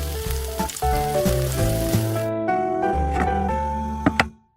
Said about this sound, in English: When the oil is hot, gently fry the marinated fish until both sides are golden brown.